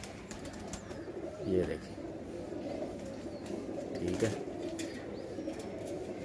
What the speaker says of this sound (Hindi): ये कबूतर के साथ ये वाली मादी है